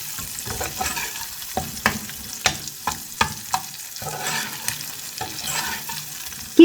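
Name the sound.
frying and stirring dried loitta fish (Bombay duck)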